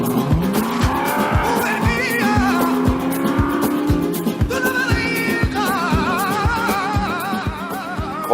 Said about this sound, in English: Kevin gets the advanced drive of the Maserati Gran Turismo S